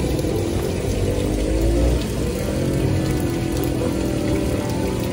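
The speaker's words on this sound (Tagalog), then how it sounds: "Hanggang ngayon nga po, maulan-ulan pa rin po." Rain falls over the Marikina River, a dense steady patter and wash of water that stays close and fairly loud throughout, with no talking.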